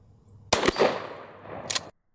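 A Remington 870 shotgun fires a single loud, close blast with a rumbling decay, followed about a second later by a second sharp crack before sudden silence.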